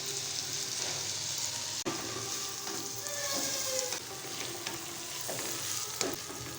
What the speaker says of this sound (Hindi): दोनों चीज़ों को थोड़ी देर फ्राई करेंगे।